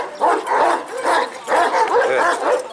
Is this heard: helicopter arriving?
no